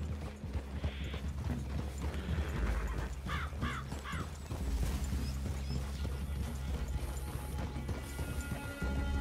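Horses' hooves clip-clopping in the video game Red Dead Redemption, a steady rhythmic plodding set in a dense ambient mix with crows cawing and faint scattered clatter, with no talk.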